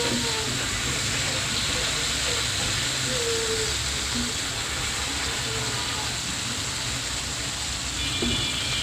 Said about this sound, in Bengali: এখন মাছগুলো আমি ভালোভাবে ভেজে নিতেছি